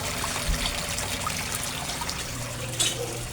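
Submersible pump churning and bubbling water in an outdoor koi fish pond, a steady close trickling and splashing wash that runs throughout with no talk.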